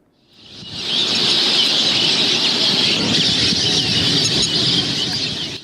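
Dense, continuous high chirping of many birds at a wetland bird sanctuary and fish reserve, rising in quickly and holding a steady, loud wash of calls with no talking.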